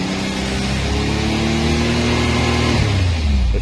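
A 2021 Can-Am Maverick X3 turbo engine held at raised revs in neutral, a loud, steady droning hum with a slight pitch shift before the revs drop near the end.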